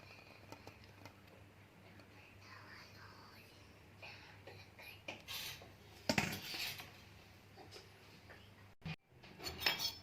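Falsa chutney dished out with a spoon, soft scattered clinks and scrapes of metal against a bowl, faint and close, with a brief louder clatter midway.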